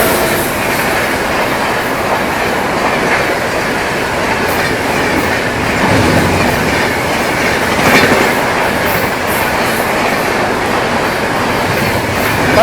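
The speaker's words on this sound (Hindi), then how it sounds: "और इधर से आ गई बैंगलोर राजधानी" The Bangalore Rajdhani and the Telangana Express pass each other at high speed, a loud continuous rush of rail noise with rhythmic clickety-clack from the wheels and faint squeal, sustained close by throughout.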